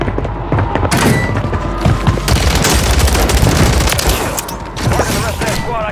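Gunfire and explosive booms from the video game Call of Duty Warzone on Rebirth Island fill the clip, a dense, loud fusillade of overlapping shots and thumps with little pause.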